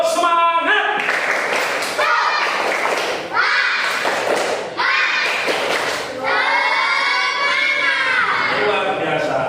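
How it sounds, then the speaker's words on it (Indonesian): Schoolchildren at an elementary school in Indonesia perform a tepuk semangat clapping chant together, loud rhythmic claps and thumps mixed with shouted, chanting young voices for about nine seconds. "Sekarang kita tepuk semangat ya."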